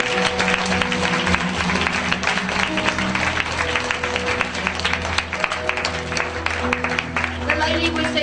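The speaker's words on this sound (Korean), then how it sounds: "주님께 찬양의 박수를 올려드리겠습니다." Congregation applauding during a church worship service, dense sustained clapping mixed with voices and background music, steady and fairly loud throughout.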